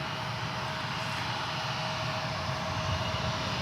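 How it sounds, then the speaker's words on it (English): A Boeing 747 cargo plane takes off from runway 36 Right at DFW International Airport, producing a continuous, loud, broad jet roar that holds steady throughout without any talk. "a successful launch of a 747 cargo"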